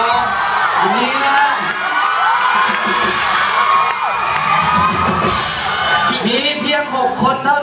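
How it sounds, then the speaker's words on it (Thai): Loud concert audience in a Thai reunion show erupting in cheers, whoops and shouts with clapping, a dense, lively roar mixed with voices throughout. "ขอเสียงปรบมือให้กับรางวัลหน่อย"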